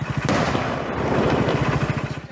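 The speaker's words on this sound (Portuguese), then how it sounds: "O vídeo feito por um morador que passava pela estrada mostra o momento da explosão na BR-308" Explosion of an armored car on highway BR-308 in Pará, Brazil, caught from a passing vehicle: a loud, rough blast and rumbling crackle that continues with rapid pops, like gunfire, at a distance.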